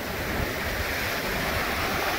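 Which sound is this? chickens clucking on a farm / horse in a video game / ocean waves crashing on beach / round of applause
ocean waves crashing on beach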